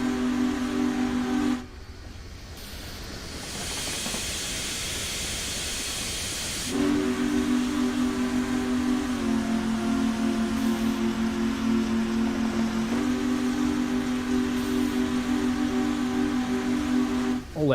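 A long steam locomotive whistle on the Smokebox Challenger in Train Simulator Classic: a short blast, a few seconds of hissing steam, then a sustained loud chime that wavers in pitch and briefly dips, close and without speech.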